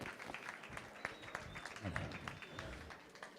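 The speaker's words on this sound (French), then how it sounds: "On l'applaudit bien fort et pas que ses enfants." Fairly quiet clapping from an audience at a live drawing battle show, sparse and uneven, with a few louder claps and faint voices mixed in.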